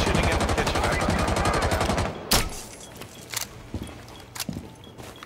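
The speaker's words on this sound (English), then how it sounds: "they're shooting in the kitchen" Gunfire in Rainbow Six Siege on the Coastline map during a team deathmatch, with shooting in a kitchen: a dense, rapid automatic burst for about two seconds, then scattered single loud shots and lighter impacts.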